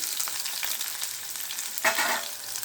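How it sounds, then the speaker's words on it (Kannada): Tomato and onion fry in oil with cumin, chilli and garlic for a green gram curry, a close, steady sizzle with a brief louder burst as the pan is stirred, no voices. "ಇವಾಗ ಫ್ರೈ ಮಾಡ್ಕೊತಾ ಇದ್ದೀನಿ ಟೊಮೊಟೊ ಮತ್ತು ಆನಿಯನ್ನು ಎಲ್ಲ ಸಾಫ್ಟ್ ಆಗೋವರೆಗೂ"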